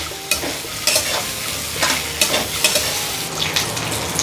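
Grated sweet potato is stirred in a hot pan for a fasting-day halwa, giving soft scraping and light sizzling with a few sharper spoon knocks against the pan, close and steady, no talk.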